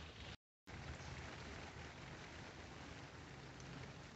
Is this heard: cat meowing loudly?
no